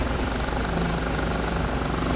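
Continuous loud helicopter rotor drone with a steady engine whine, filling the whole clip without pause, in the flight simulator game DCS played in virtual reality.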